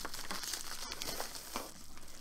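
A package of knitting supplies being unwrapped, steady close crinkling and rustling of plastic wrapping throughout with a brief tearing sound partway.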